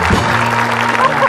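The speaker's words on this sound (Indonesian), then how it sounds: "Tepuk tangan dong" Brief burst of studio audience applause on an Indonesian TV talk show, loud, dense clapping with a steady tone running beneath it.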